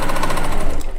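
An Elagio embroidery sewing machine with a built-in floppy disk drive stitching steadily, a loud, close, rapid mechanical rattle that runs continuously before easing off at the end.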